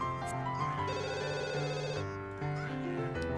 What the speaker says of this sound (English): Oh, the phone's ringing too.